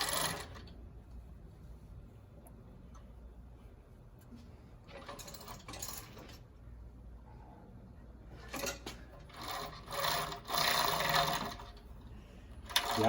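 A Jack W4 cover stitch sewing machine runs in two short bursts of rapid mechanical stitching, the second longer and louder, separated by quiet pauses with light handling noises.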